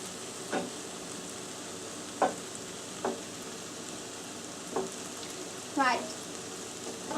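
A stir fry sizzles softly and steadily in a pan, a faint hiss running throughout, punctuated by a handful of short, sharp scraping squeaks spaced a second or two apart.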